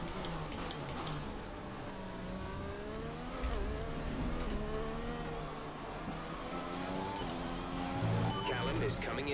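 A Formula 1 car in the F1 2020 video game at the Australian Grand Prix winds up through the gears after a yellow flag, rising engine whine repeating in steady shifts, quiet and under a commentator's voice.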